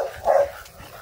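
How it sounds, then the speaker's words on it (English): One short, mid-pitched bark from a dog, close and fairly clear, followed by a quiet background. "What the hell are you barking at?"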